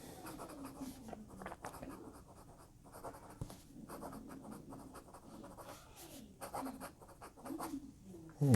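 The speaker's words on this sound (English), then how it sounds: "A little bit of fast writing." Quick scratchy strokes of a fountain pen nib racing across paper, a steady run of soft scraping bursts with brief pauses between words, close and fairly quiet.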